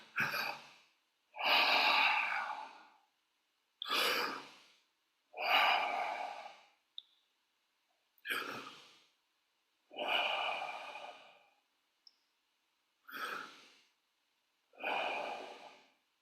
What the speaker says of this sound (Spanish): Respiración larga por la boca y sacamos largo por la boca